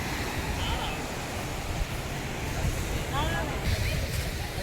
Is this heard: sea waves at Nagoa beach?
yes